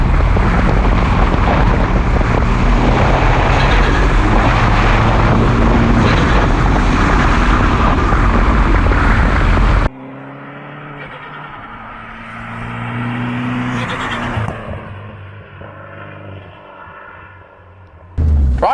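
Turbocharged Citroen C2 driving, a loud steady engine and road roar filling the first half, then a quieter cabin with a rising engine surge and fainter running noise.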